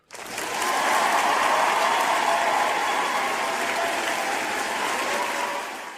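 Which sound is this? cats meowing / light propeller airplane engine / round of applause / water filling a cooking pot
round of applause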